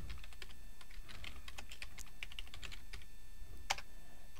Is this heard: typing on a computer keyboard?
yes